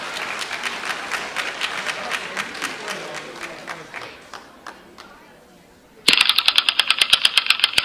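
Rapid, rhythmic clapping from a crowd at a middle school assembly fades out, then a sharper burst of close, quick claps follows.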